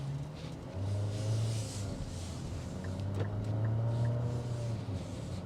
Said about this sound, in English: This is a VC-Turbocharged 4-cylinder, so it's a little bit slower than the 6-cylinder engine that it replaced.